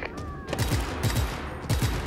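Rapid automatic gunfire from a low-accuracy, high-capacity weapon in the open-world action game Just Cause 3, loud close bursts recurring in clusters with brief gaps between them.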